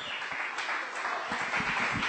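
A church congregation applauds in a fairly faint, steady patter of many hands clapping together, heard from a little distance without any break.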